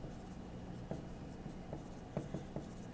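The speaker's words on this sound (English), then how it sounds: "So I'm going to write a bunch of 3's" Pen writing numbers on paper, faint soft scratching with a handful of small tapping strokes scattered over a few seconds, close and quiet against a low background hum.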